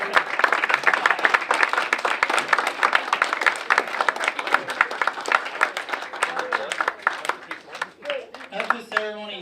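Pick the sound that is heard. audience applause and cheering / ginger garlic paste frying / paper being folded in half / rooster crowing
audience applause and cheering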